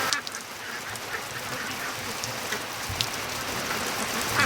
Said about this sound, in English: Ducks in rain. They love it.